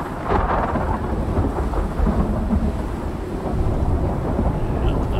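Thunderstorm in the survival video game Icarus: steady rain with rolling thunder rumbling close, a continuous dense wash of storm noise without speech.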